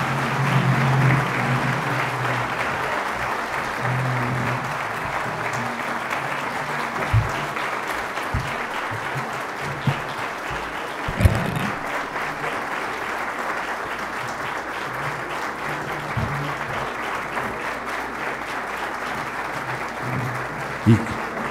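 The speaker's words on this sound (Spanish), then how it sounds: "Y que el aplauso no decaiga" Sustained audience applause at an honorary doctorate ceremony, a steady, even roar of many hands clapping in a hall, with a few louder knocks and faint voices underneath.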